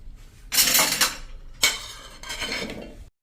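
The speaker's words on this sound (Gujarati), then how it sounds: "હવે એને આપણે મિક્સર જારમાં લઈ લેશું।" Pieces of 500 g of cut bottle gourd are tipped into a steel mixer jar, giving three separate bursts of close clinking and rattling against metal, with short pauses between them and no talking.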